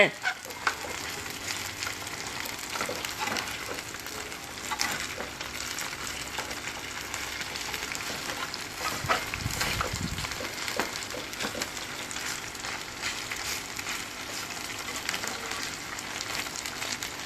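Chicken breast pieces fry in hot oil with a steady, dense sizzle and crackle that runs unbroken and moderately loud throughout.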